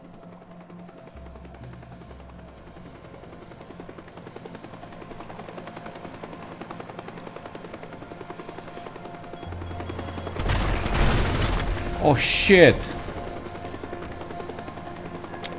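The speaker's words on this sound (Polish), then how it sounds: "helikopter?" A helicopter and gunfire in the video game Teardown: a low engine drone builds up and then erupts into a loud, dense burst of rotor noise and rapid shots lasting a few seconds, with a man's brief startled exclamation.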